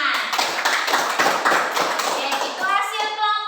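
A group claps hands in quick, rhythmic bursts during a church pastoral training session, with voices rising near the end.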